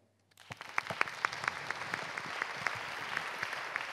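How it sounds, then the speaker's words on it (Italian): An audience at an evening literary event with several authors breaks into applause, starting abruptly and building into a sustained wash of many hands, with some sharper close claps standing out, at moderate distance. "Applausi"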